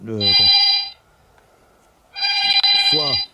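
A mobile phone rings in two loud bursts of a bright electronic tone with a rising and falling tone, separated by about a second of near silence.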